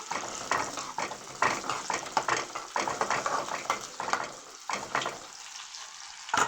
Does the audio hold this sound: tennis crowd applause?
no